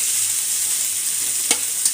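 Potatoes and vegetables for bharta frying together in oil, a loud, steady hissing sizzle close by, with a couple of quick ladle taps near the end.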